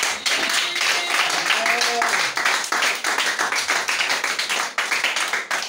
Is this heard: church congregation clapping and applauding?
yes